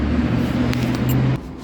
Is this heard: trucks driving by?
yes